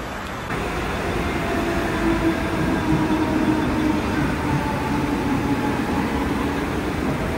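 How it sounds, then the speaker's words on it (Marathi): A train rolls into a station with a steady, rumbling drone of rail cars and a faint tonal hum running underneath, continuous and fairly close throughout. "ते आम्हाला नको असलेली ट्रेन आली"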